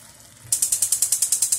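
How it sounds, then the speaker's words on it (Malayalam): A gas stove knob turned off after cooking tomato chutney gives a quick run of about a dozen sharp, evenly spaced ratcheting clicks, loud and close, after a quiet start. "ഇനി ഗ്യാസ് ഓഫ്"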